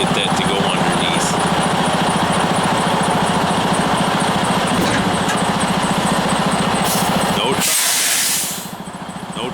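A truck backs slowly under a trailer with a loud, steady diesel engine drone and rattle throughout, ending in a sharp hiss of air before the engine note drops.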